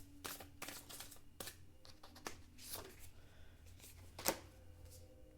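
Playing cards being shuffled by hand nearby, a series of quick riffling and slapping bursts with a louder snap near the end.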